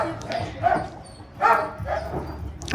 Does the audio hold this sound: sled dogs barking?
yes